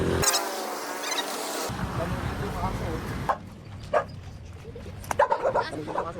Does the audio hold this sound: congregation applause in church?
no